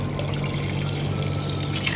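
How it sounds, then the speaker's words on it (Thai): Strained Thai tea is poured into cream simmered with sugar for a Thai tea pudding, a steady close liquid rush with a low hum, continuous and without voices. "ของชาเมื่อสักครู่ที่กรองนะคะมาใส่รวมกับตัวครีมสดที่เราเคี่ยวกับน้ำตาลเมื่อสักครู่"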